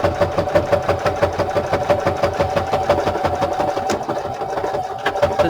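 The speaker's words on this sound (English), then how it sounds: "I'm going to run a stitch down here and then run another stitch down here" Sewing machine running a straight stitch down the pocket of an old book cover, a loud, close, continuous motor hum with a fast regular needle pulse and no talking.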